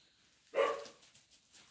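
A dog lets out a single sharp bark, moderately close, after a near-silent stretch, followed by faint room noise.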